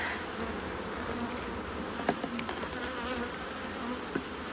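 A dense, steady buzz of many honeybees fills the air close by during a hive inspection, with a few faint clicks and knocks and no talking.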